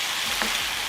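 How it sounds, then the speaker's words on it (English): A pot of Mexican-style chunky beef and potato stew with vegetables being gently mixed: a short, soft stirring scrape over a steady background sizzle, close and fairly quiet, with no voices. "Now give all your ingredients a loving and gentle mix."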